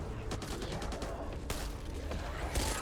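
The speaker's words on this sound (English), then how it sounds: "Shooting at me." Dense, rapid gunfire in the co-op zombie shooter Back 4 Blood, a continuous barrage of close shots with sharp cracks standing out near the middle and end.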